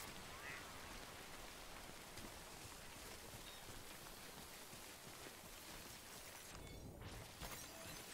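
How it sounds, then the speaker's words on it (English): Rain falls steadily in Death Stranding as a faint, even hiss with scattered drops, and a brief whooshing sweep rises near the end. "Although it's still rainy."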